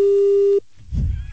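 A phone line tone sounds once, steady and loud, right after a call is hung up. It cuts off sharply after about half a second and is followed by a brief low rumble.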